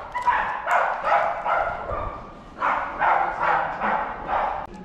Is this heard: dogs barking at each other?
yes